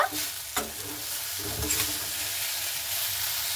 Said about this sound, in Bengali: সেই চাউমিন মশলাটাকে দিয়ে একটু ভালো মতো করে নাড়াচাড়া করে নেব